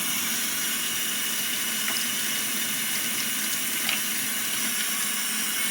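Water runs steadily from a sink tap as eggshells are rinsed beneath it, a soft, even hiss and splash that carries on without pause for several seconds at moderate distance, with no voices.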